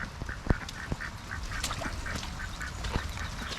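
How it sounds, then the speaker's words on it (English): Several ducks quack repeatedly in short bursts under a lean-to during pouring rain, with the steady hiss of the downpour running continuously beneath their calls. "The ducks love this weather."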